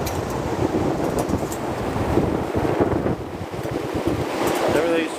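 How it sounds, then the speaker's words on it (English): A windstorm roars over a farm, a steady, loud rushing of gusts buffeting close against the microphone for the whole stretch with no let-up. "we've got a windstorm going on here."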